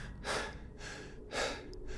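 A frightened man pants heavily, drawing two deep, ragged breaths in a close but quiet passage.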